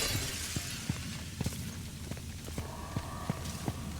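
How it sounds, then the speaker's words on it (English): Glass shatters in the sci-fi horror game Callisto Protocol, with a burst of breaking followed by a rapid run of sharp, clattering tinkles as shards fall, loud and close with no speech. "This is glass that will break."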